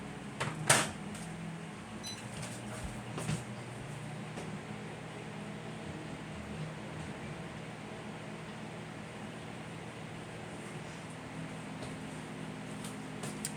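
A small Kenmore microwave oven runs with its turntable spinning, giving a steady low hum throughout, with a few faint clicks and knocks near the start.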